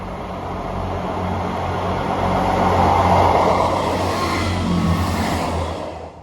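A Transport for Wales class 158 diesel unit on the Aberystwyth to Birmingham International service rumbles past close by, engine drone and wheel noise swelling to a peak midway, then easing as it fades out.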